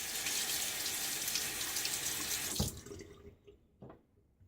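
A bathroom tap runs steadily, splashing into a sink as a razor is rinsed between shaving passes, then shuts off, leaving a few faint drips and handling clicks.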